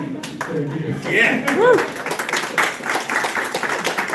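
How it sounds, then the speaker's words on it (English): Brief clapping from an audience at a tech panel event, scattered and moderate, mixed with talk and a short thank-you spoken over it. "So if you have something profound, please do well to clap."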